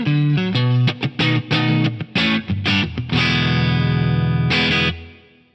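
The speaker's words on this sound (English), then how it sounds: "I'm on the split mode of the neck pickup on this PRS DGT. Sounds like this." A PRS DGT electric guitar, neck pickup in split mode, plays through a Band Commander amp model on an Axe-Fx III: a quick run of short plucked notes, then a sustained chord that rings and is cut off, with one last chord fading.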